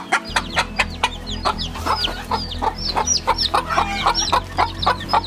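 Gurk hen, a broody mother, clucking steadily among her chicks as they peep in rapid, overlapping high calls, close and continuous, with a faint low hum beneath.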